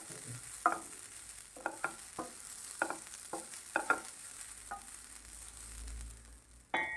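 Masala frying on a slow flame is stirred with a spoon, giving a series of soft scraping strokes and taps over a quiet, steady sizzle, fairly faint and close with no voices.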